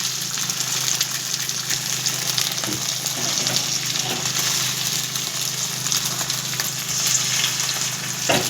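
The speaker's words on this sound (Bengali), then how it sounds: "ডিমটা দেখো ভালো করে ভেজে নেব।" An egg fries in a pan with a constant, fairly loud sizzle and a low steady hum beneath, a few faint scrapes rising above it, without any talking.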